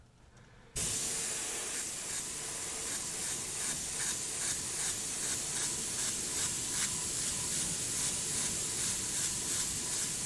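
An airbrush sprays paint onto an Air Force 1 sneaker, starting abruptly with a close, steady hiss that pulses faintly as the spray is worked across the shoe, with no talking.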